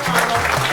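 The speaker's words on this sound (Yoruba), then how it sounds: "pàtẹ́wọ́ fún ẹwà" Children clap together in brief, steady applause at a children's day celebration in an orphanage, a dense patter of hands lasting under a second.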